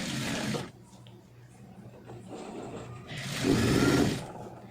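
A sewing machine stitches a blouse with back stitching, two short whirring bursts at the start and end separated by a quieter pause, close and moderately loud.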